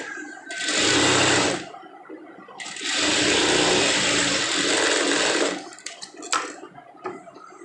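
A sewing machine stitches a blouse lining in two loud, steady whirring runs, a short burst and then a longer one, followed by clicks and handling noises as the fabric is adjusted.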